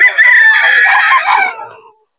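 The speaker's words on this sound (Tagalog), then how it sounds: "Ganda ng mga manok ni Boss Dennis." One loud, close rooster crow at the Bocaue pet market rises and trails off over about two seconds, then silence.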